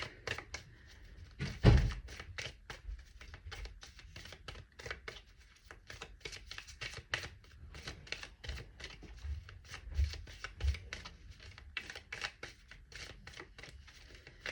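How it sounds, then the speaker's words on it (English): A deck of tarot cards is shuffled by hand, a long run of quick papery riffles and soft taps close by, with a few duller thumps as the cards are squared; no talking. "Two more shuffles and then I'll pull some cards out."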